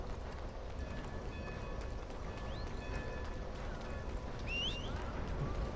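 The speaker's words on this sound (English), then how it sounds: "This train needs to stop." A train rolls along steadily in Red Dead Redemption 2, a continuous rumbling clatter heard alongside faint birdsong chirps, with no one speaking.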